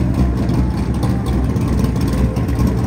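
A BMW E36 M3 idles nearby with a loud, steady, rumbling engine note, slightly uneven, running on alone without talk.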